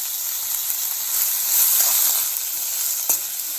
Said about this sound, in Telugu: దీన్ని కొంచెం ఫ్రై చేసుకుందాం ఉడికేటట్టుగా